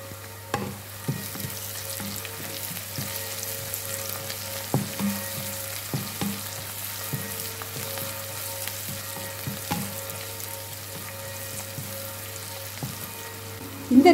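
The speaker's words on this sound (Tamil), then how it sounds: "இப்படி பொரிஞ்சு வர நேரத்தில் இந்த அடித்து வச்ச செத்தல் மிளகாய் அதுலேயும் கொஞ்சத்தை போட்டு தாளிப்போம்." Dried red chillies, pounded beforehand, sizzle in hot oil for tempering while a Jaffna-style spicy potato dish is cooked. A steady, soft crackle is broken by sharp pops and occasional stirring clicks under a low constant hum.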